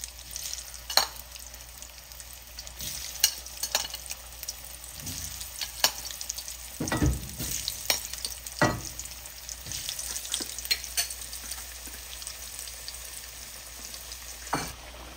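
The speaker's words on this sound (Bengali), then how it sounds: "আলুগুলি ভেজে নিব" Turmeric-coated potatoes fry in hot oil with a steady crackling sizzle, plus occasional stirring clatter and a louder burst of spatter midway, close and continuous with no talking.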